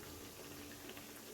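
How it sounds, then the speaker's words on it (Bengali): Nakshi pitha, a patterned rice-flour cake, fry in oil over a medium flame, giving a faint, dense, even bubbling hiss that stays constant throughout with no voices. "তো একটু মিডিয়াম আঁচে এগুলোকে ভেজে নিতে হবে, যাতে ভেতর থেকে খুব ভালোভাবে ভাজাটা হয়।"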